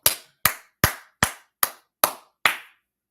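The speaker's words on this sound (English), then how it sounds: "Let's clap it up" Seven loud, crisp hand claps in a slow, evenly spaced rhythm, close and alone with quick decays between them, from someone leading a class to clap along.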